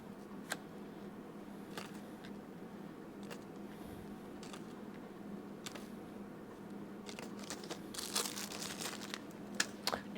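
Plastic bag crinkling as leftover electronics parts for DIY test probes are packed away, soft scattered rustles and crackles, close, growing busier near the end, no talking.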